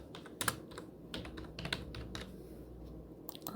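Soft clicks of typing on a computer keyboard, a few scattered keystrokes in short clusters with quiet gaps, close but low in level.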